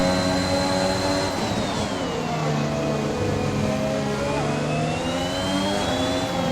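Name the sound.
F1 race car engine in the video game F1 2021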